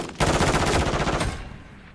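Rapid automatic gunfire from the video game Call of Duty, a loud sustained burst of fast repeated shots lasting about a second before tapering into a fading tail.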